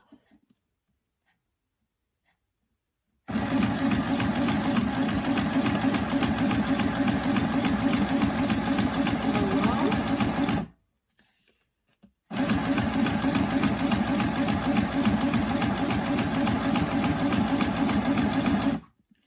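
A sewing machine stitching sheets of paper together runs in two loud, steady bursts of about seven seconds each, separated by a short pause, with a constant rapid mechanical whir and no talking.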